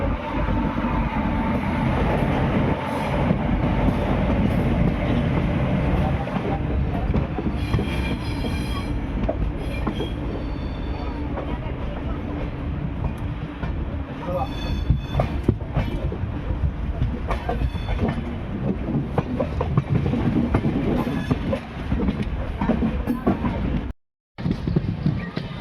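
The Dayodaya Express rolls along tracks on a curve after Ajmer Junction, a loud continuous rumble of wheels and carriage noise with clattering and some squeal throughout, briefly cut near the end.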